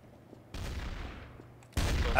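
Gunshots in the video game Trouble in Terrorist Town: two sharp, loud reports, the first followed by a long fading echo and the second louder and harsher, with faint background noise between.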